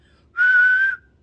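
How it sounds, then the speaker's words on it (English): A woman whistles one steady, clear, high tone, close and fairly loud, lasting just over half a second against a quiet background. "See, I can whistle a little bit."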